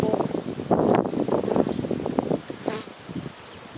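Honey bees buzz around an open hive during a June beekeeping check on a new package colony, a dense close droning hum with some wind and rustling and no speech.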